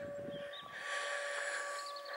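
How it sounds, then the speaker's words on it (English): A quarry warning siren sounding before blasting near Cheddar, a steady sustained wail heard at a distance across open countryside, with no talking. "A siren."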